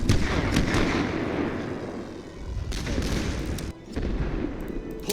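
An artillery barrage thunders in a World War I video game set on the Western Front in 1914, with repeated booming shots over a continuous rumble of distant fire.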